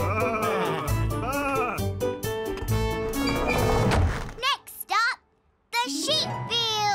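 Several sheep bleat in quick, wavering calls, mixed with a voice and background sounds, followed by more bleats after a short pause.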